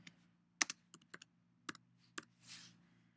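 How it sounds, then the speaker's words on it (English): Quiet keystrokes on a computer keyboard while entering text for a social media template in Photoshop: about eight distinct clicks in loose, uneven bursts, close and alone. "I'm going to type here in the middle, I'm going to type free gift."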